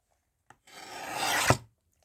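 A paper envelope is trimmed with a single dry rasping cut that builds over about a second and ends in a sharp snip, close and quiet with no talk.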